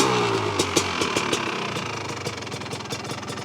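A freshly rebuilt 1985 Honda ATC 250R engine runs close by with a steady idle, its rapid rhythmic firing punctuated by sharper knocks and rattles.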